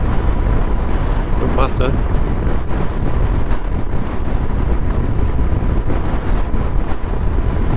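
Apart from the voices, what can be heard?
strong wind buffeting a Suzuki GSX-S1000GT motorcycle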